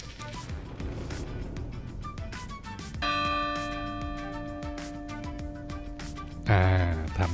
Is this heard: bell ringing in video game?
yes